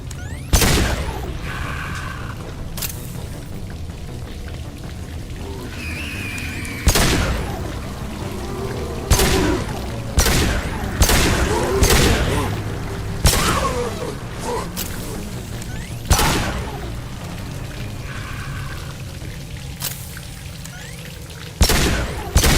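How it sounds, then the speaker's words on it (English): Explosions in the video game Mass Effect 2, a string of sharp, heavy booms breaking out every few seconds over a low rumbling backdrop with whooshing and crackling debris between blasts. "Explosions."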